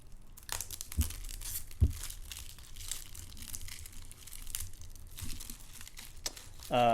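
Plastic and cardboard packaging of a Flesh and Blood Monarch Blitz card deck being torn open, with crinkling, scattered tearing bursts and a few soft thumps, close and moderately quiet.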